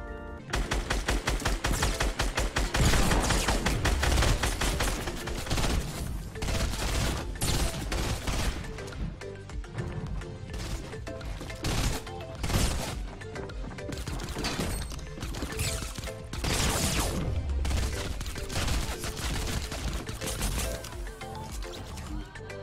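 Rapid gunfire bursts and heavy impacts from Fortnite gameplay, with dense repeated shots and crashes over a loud, busy game soundtrack that never lets up.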